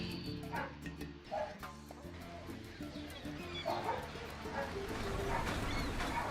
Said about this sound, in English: Apologies if you hear barking in the background.